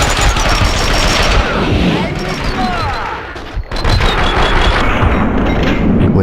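Gunfire in the video game Max Payne 2, rapid bursts of automatic shots and booming blasts in a dense firefight, loud and close with a short lull midway.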